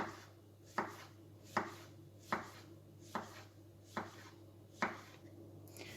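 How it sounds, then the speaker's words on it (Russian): Steady knife chopping of mushrooms on a cutting board, about eight even strokes spaced under a second apart, close and clear over a low background hum. "Нарезаю грибы."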